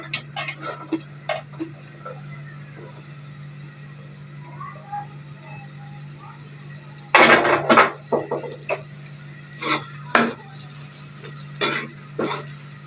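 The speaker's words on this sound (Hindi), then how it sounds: "प्याज डाल के अब हम मिक्स कर रहे हैं इसको" Onions added to a cooking pan for tinda curry are stirred with a utensil, giving sharp scraping clanks and taps against the metal, with a louder burst midway, over a low steady hum and no talk.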